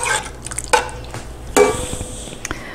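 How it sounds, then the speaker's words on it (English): A spoon stirs through a pot of chili sweetened with honey, giving a few scraping, wet clinks and sloshes against the pot, close and fairly loud with no talking. "So now that we've got this all stirred in together"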